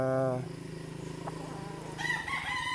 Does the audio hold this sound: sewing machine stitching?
no